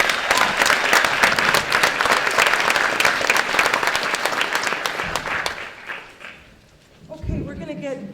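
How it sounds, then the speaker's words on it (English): Audience at a panel discussion on war, peace and global justice gives a round of applause, steady and full for about five seconds before fading, then a speaker's voice begins. "Give her a round of applause, please."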